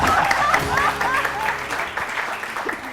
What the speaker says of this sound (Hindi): बहुत सारी तालियां पुरतशद्दुद सलमा के लिए,